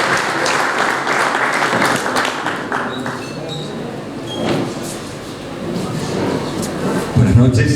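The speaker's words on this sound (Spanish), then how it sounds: "Recibimos con un aplauso entonces y lo invitamos a que se acerque al señor Carlos Serrano" Audience applause at an Industry Day talk, as the crowd welcomes speaker Carlos Serrano with sustained clapping and a voice heard over it.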